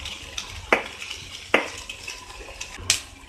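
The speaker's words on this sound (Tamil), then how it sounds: "இந்த கேப்சிகம் சேர்த்தில அதில் இதையும் ஒரு நிமிஷம் ஃப்ரை பண்ணிக்கோங்க இந்த வெங்காயம் பூண்டோடு சேர்த்து" Capsicum being stir-fried with onion and garlic in a pan, with three sharp metallic spatula clanks against the pan over a soft sizzle, plus lighter taps between them.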